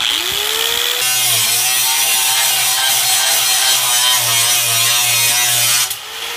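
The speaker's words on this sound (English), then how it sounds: "So angle grinder, I choose you." An angle grinder with a cutoff wheel bites into steel stock to cut out a knife blade, producing a loud, steady, harsh grinding roar with a held whine that runs for several seconds before the tool spins down.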